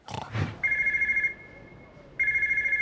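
A telephone rings with a bright electronic warble in two bursts, a longer ring, a brief pause, then the ring starting again, after a short burst of voice at the start.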